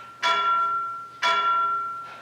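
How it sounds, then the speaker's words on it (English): A single bell on a Macbeth stage production rings twice, about a second apart, each stroke a clear, sustained tone that slowly decays, loud and alone. "The bell invites me."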